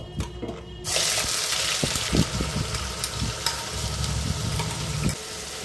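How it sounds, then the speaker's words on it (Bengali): Onion paste hitting hot mustard oil in a wok for mutton pulao, a sudden loud burst of sizzling after a quiet start, then steady frying with occasional spoon scrapes and clicks up close. "সর্ষের তেল গরম হয়ে গেছে, পেঁয়াজ বাটাটা দিয়ে দেবো।"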